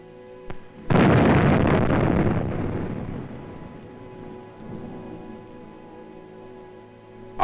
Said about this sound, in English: And when the bulldozer could not get through, the sappers blasted their way